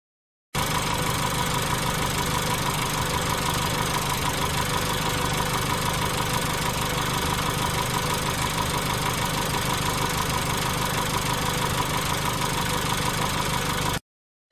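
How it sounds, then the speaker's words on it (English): A car engine idles steadily and loudly throughout, a continuous mechanical hum with a slight knocking rattle. "A car."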